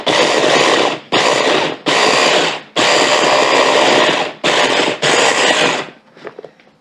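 A food processor chops salsa ingredients in loud, broadband whirring bursts, six pulses of about one second each separated by short gaps, ending in faint rattling as the blade stops.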